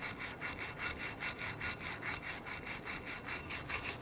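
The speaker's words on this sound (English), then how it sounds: "Use your wire brush or a flat file and clean that mating surface." A wire brush or flat file scrubs the brake slider mating surface of a Nissan Frontier, quick even back-and-forth rasping strokes, about four per second, close and steady.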